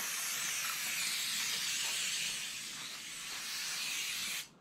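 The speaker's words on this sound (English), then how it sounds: "with heavy duty silicone lube, you're just going to lube the crap out of it." Heavy duty silicone lube sprayed from a can onto a drift tire, a close continuous hiss lasting several seconds before cutting off abruptly.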